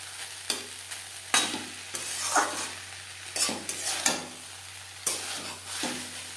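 Cauliflower is stirred as it fries in a pan over a medium gas flame. A soft, continuous sizzle is broken by repeated scraping stir strokes every second or so, close up and with no talking.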